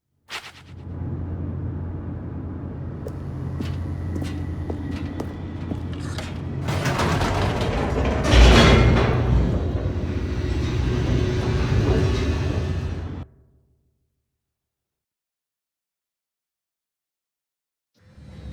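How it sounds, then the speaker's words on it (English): An elevator in The Stanley Parable plunges downward, a steady mechanical rumble and rattle with clanking transients, swelling to a loud jolt midway, then cutting off abruptly into silence before a faint return at the end. "The elevator raced downward, plummeting towards an unknown fate."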